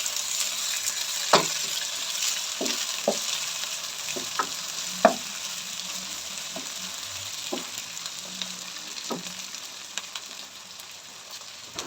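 Chopped tomatoes and green chillies frying in a pan for aloo keema matar, a continuous close sizzle with scattered spoon taps and scrapes as they are stirred, no speech.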